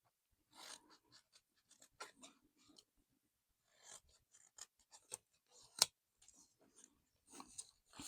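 Scissors snipping through paper for a scrap-doll craft project, a series of short crisp cuts in irregular bursts, close and fairly quiet with no talking.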